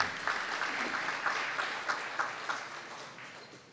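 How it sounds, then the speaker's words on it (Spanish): Applause for the prize winner at a neighborhood prize draw in Miraflores, a moderate crowd clapping steadily for several seconds and tapering off toward the end, with no speech. "El aplauso para la ganadora."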